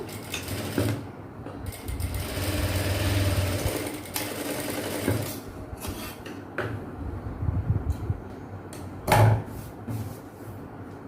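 A sewing machine stitches a blouse in close, rapid whirring runs that start and stop, with a few soft handling clunks and a sharp knock near the end, and no talking.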